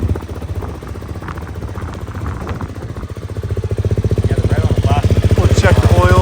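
A 2024 Beta 450 RX motocross bike idles close by with a steady, throbbing single-cylinder putter that grows louder and more pronounced in its second half, with a voice briefly speaking over it.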